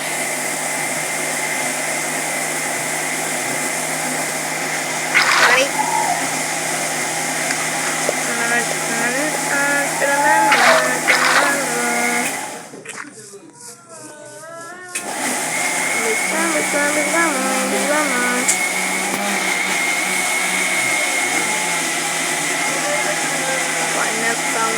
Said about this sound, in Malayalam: അയ്യോ മിക്സിയുടെ സൗണ്ട്